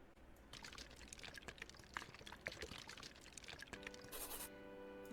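Concrete pours from a mixer in a landlord-building video game, a wet sloshing rush of liquid with splashy bursts, followed by a bright chiming completion tone near the end.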